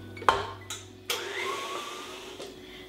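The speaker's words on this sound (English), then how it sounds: "Beat the butter until fluffy and start adding condensed milk, a tablespoon at a time, on lower speed." Electric mixer beating butter for buttercream: a steady motor whir with a few sharp clicks and clunks at the start, continuing at an even level, close up and alone.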